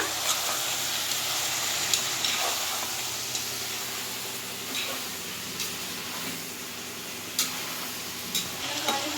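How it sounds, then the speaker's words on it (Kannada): Brinjal pieces frying with onion in oil in a pan, giving a steady soft sizzle and hiss, with occasional clicks of stirring throughout. "ಚೆನ್ನಾಗೆ ಈರುಳ್ಳಿ ಜೊತೆ ಬದನೆಕಾಯಿನೂ ಫ್ರೈ ಮಾಡ್ಕೊಂಬಿಡೋಣ."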